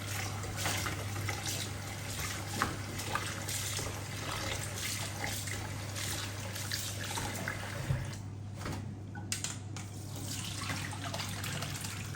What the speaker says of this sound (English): we wash chicken nicely